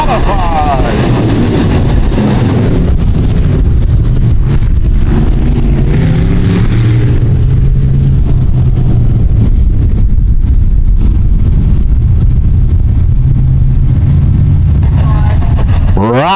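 USRA B Modified race cars roar around a dirt track during a weekly feature, engines revving and passing in loud waves, with an announcer talking over the noise.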